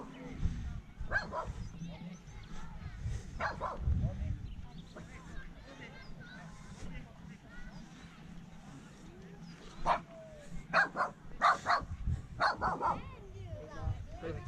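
A dog barks and yips in short bursts at an Easter outing in an arboretum, the barks close and fairly loud and mixed with people talking nearby.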